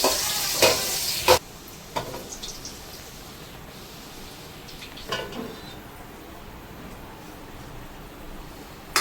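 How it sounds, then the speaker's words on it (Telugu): Thinly sliced onions fry in hot oil until brown, with a steady close sizzle. A few sharp stirring clatters come early and one comes midway, then the hiss settles to a quieter, even bubbling. "ఆయిల్ హీట్ ఎక్కిన తర్వాత ఆనియన్ అనేది పల్చగా కటింగ్ చేసేసి అందులో వేసానండి"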